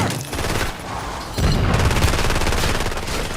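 Gunfire in a multiplayer shooter video game, with sniper fire from above the train tracks amid a dense barrage of shots and booming impacts, loud and continuous throughout.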